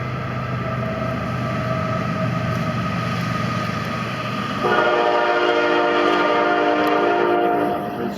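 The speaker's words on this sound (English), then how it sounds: "There's your CSX train running through over there." A CSX freight train rolls past in the distance in rural Tennessee, its steady rumble building until a long, loud horn blast sounds over the rail noise for the last few seconds.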